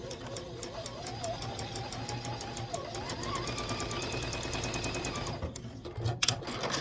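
A sewing machine hums steadily and continuously while stitching a quilt block, with a fast, even needle rhythm. It is heard alone and close, and a few sharp clicks come near the end.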